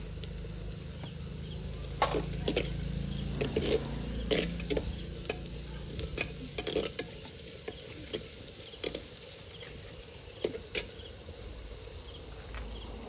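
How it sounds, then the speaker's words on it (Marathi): Onions and ginger-garlic paste fry in a clay pot over a wood-fired stove, with peanuts stirred in. A steady close sizzle runs throughout, broken by repeated scraping and clattering stirs, with no talking. "आता आपण ह्याच्यामध्ये आले लसूण पेस्ट घालणार आहोत"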